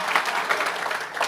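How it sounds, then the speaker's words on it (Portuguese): A church congregation claps in steady, dense applause that fills the room, sustained and fairly loud for the whole moment, with a faint murmur of voices underneath. "Pode aplaudir o Senhor"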